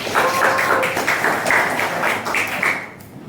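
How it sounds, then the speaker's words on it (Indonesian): Schoolchildren in a classroom applauding together, a steady rapid clatter of many hands lasting about three seconds before tapering off. "Ya, tepuk tangan dong."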